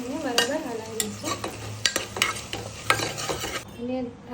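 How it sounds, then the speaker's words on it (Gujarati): Potato and onion curry with chopped tomato and salt is stirred in a pressure cooker, giving a run of sharp metallic scrapes and clinks over a low sizzle, close and without voices. "દઈશું અને બરાબર હલાવી દઈશું"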